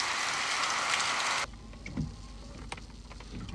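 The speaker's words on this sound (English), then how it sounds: "It's still raining." Steady rain falls outside as a dense, hissing patter for about a second and a half, then drops away abruptly, leaving only faint drips and small knocks.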